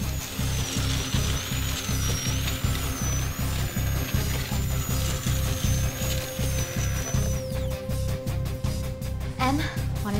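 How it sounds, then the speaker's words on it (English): A steady, high-pitched diamond-tipped cutting tool whines continuously with a throbbing low rhythm beneath, then shifts to harsher clattering near the end. "A diamond-tipped cutting tool."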